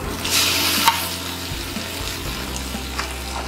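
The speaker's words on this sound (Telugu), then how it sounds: "చూసారు కదా ఎంత బాగా ఫ్రై అయిందో." Fish frying on a flat iron tawa for an Andhra-style fish fry gives a steady close sizzle. It swells briefly early on, then settles into a quieter crackle with small pops.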